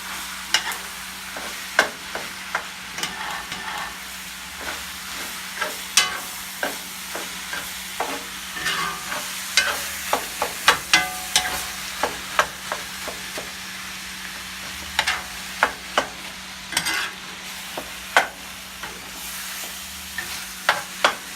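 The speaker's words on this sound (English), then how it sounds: "you take your spoon and chop that ground meat up" Ground meat mixture frying in a pan for seafood stuffed peppers, a steady soft sizzle broken by repeated sharp scraping and tapping as a spoon stirs and chops it, close and alone.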